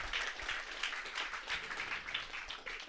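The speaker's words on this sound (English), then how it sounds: "Give Dave a big round of applause as well." Steady, fairly faint applause from an audience at a book launch on Valentia, many hands clapping together for about three seconds with no voices over it.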